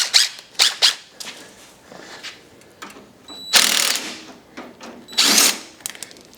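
A ratchet loosens bolts on the belt tensioning arm of a deck, heard as several close, short bursts of sharp mechanical clicking separated by quiet gaps.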